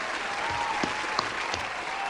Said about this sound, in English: give y'all a round of applause